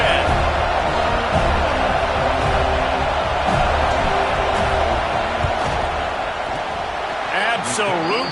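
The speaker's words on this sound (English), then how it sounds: "This crowd trying to do its part to get inside the kicker's head." Steady stadium crowd roar during a field goal attempt in a Washington vs Florida State college football video game, a dense continuous din with cheers and whoops, under a commentator's talk.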